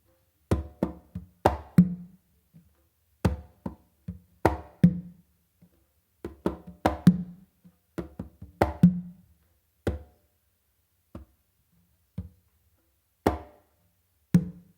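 Conga and tumba hand drumming in a guaguanco pattern, a sharp close slap in the center of the conga answered by a muffled tumba stroke, played alone in clustered rhythmic groups that thin out toward the end.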